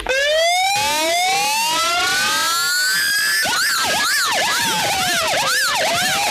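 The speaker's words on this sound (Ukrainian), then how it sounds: "провели швидкий автопробіг із сиренами" Several loud ambulance sirens wail together in a medics' protest motorcade, rising and falling in overlapping sweeps and quick yelps, close by and continuous.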